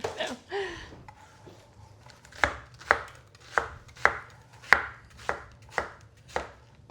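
An onion chopped with a knife on a board, about ten crisp, evenly spaced cuts, close and clear, with brief handling noise before them.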